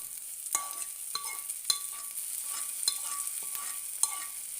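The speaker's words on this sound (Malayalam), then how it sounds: "ചെറിയ ഉള്ളിയാണ് എടുക്കുന്നത് അതൊന്ന് അരിഞ്ഞത് ഇട്ടിട്ട് നല്ലോണം ഒന്ന് മൂപ്പിച്ചെടുക്കാം" Chopped shallots fry for a spinach curry, a gentle close sizzle broken by sharp metallic ticks of a spoon hitting the pan roughly once a second, with no voices.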